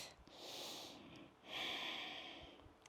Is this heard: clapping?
no